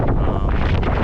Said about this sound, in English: It wasn't so damn windy